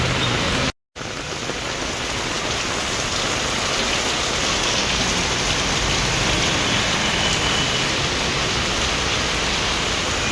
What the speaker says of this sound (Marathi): आज खूप पाऊस आहे. वाटलं नव्हतं एवढा पाऊस असेल. पाऊस काय थांबतच नाही.